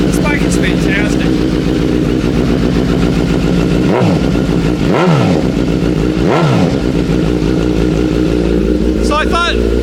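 A Suzuki Katana motorcycle with a full aftermarket exhaust and sport air filters idles loud and close, with a constant engine drone and three quick throttle blips that rise and fall, while someone talks over it.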